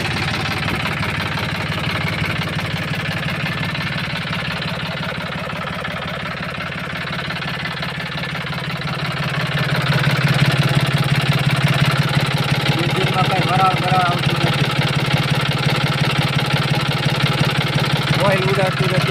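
A Mahindra B 275 DI tractor engine running steadily with a low, rhythmic diesel knock, close and continuous. The engine grows somewhat louder partway through, and someone talks over it.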